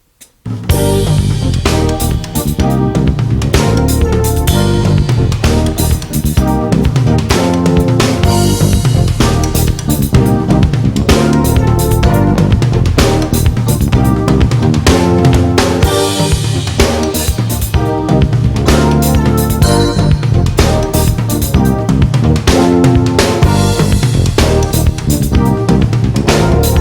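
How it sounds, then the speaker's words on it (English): A full drum kit, with a pattern spread across toms, rim clicks and cymbals, plays steadily and loud over a continuous dense band groove for nearly half a minute with no talking. "bring it over to the drums and orchestrate that pattern on the toms,"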